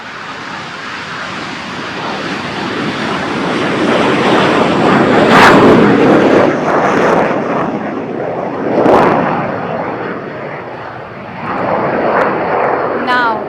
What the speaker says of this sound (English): Following the HTT-40 takeoff will be the takeoff of the intermediate jet trainer, right in front of you.